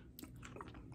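Someone bites into and chews air-fried walleye with a crunchy parmesan and pistachio crust, a brief close, soft crunching burst with no talking.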